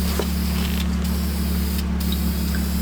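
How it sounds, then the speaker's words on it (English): Clear coat sprays steadily onto car brake calipers, a continuous close hiss with a constant low hum underneath and two brief pauses in the spray. "This is the final coat of clear coat going on."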